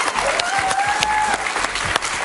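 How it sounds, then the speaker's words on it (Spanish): Studio audience applauding on a television talk show, a dense, steady burst of clapping heard up close for a couple of seconds, with a faint tone gliding over it. "Un aplauso para él,"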